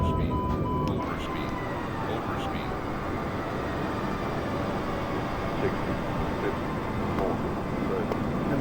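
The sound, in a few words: Boeing 737-800 airliner landing in Microsoft Flight Simulator video game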